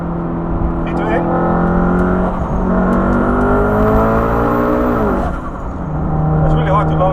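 A tuned 630 HP BMW M4 and a 631 HP VW Golf R launch side by side on an autobahn, a loud close engine roar climbing through the revs with gear changes, heard from inside the car with a voice talking over it.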